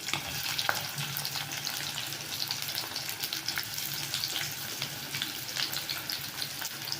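Chopped onions sizzle and crackle steadily in hot oil in a home kitchen while being fried for potato and capsicum bajji, a continuous close frying hiss with no talking.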